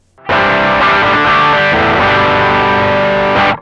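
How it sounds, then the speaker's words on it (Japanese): An electric guitar strums one chord through an Ibanez NU Tube Screamer overdrive pedal with a tiny vacuum tube and its drive knob turned up. The chord rings loud, thick and distorted for about three seconds alone before being cut off. "結構歪みが増えますね。"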